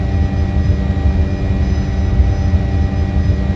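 An Apache helicopter hovers in a flight simulation game, a loud, steady engine and rotor drone with a deep rumble and a constant whine, alone throughout.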